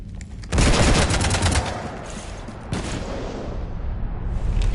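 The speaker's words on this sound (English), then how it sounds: "You want to stop shooting up my ship?" Heavy sci-fi gunfire from Mass Effect 3 aboard a ship, a loud sustained fusillade of rapid shots that swells sharply at the start, dips, then surges again in dense continuous bursts.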